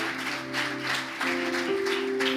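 Congregation clapping during a church service, a steady wash of applause with sustained keyboard chords underneath, moderately loud throughout.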